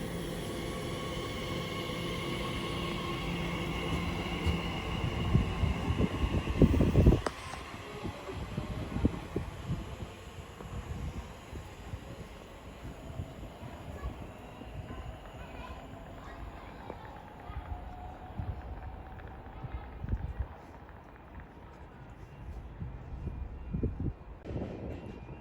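An Elizabeth line train pulls out of West Ealing station on the Great Western Main Line, a low rolling rumble and wheel noise that swells early on and then carries on steadily as it moves away.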